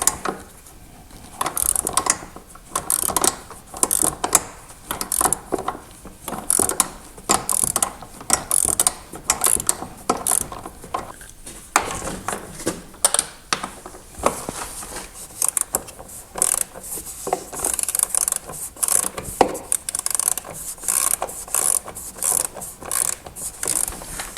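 Ratchet wrench working a bolt loose on a John Deere: rapid bursts of clicking pawl strokes, close and loud, repeated in irregular runs with brief pauses between, no talking.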